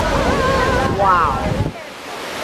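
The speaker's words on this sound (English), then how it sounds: "This is me in front of Niagara Falls." Niagara Falls roaring close by, heard from a tour boat in heavy spray, a steady loud wash of falling water with wind buffeting the microphone and voices talking over it before it drops off near the end.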